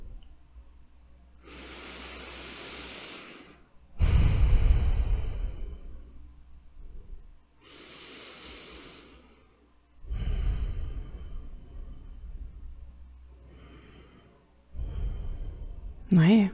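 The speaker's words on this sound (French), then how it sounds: "On va prendre 3 profondes respirations ensemble maintenant." Deep, slow breaths taken during a guided breathing exercise, about three long inhale-exhale cycles with audible airy rushes and soft sighing exhalations, close and fairly loud, separated by brief pauses.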